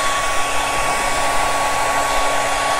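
A hair dryer blowing steadily and loudly, a constant whooshing roar with a faint whine, no voices.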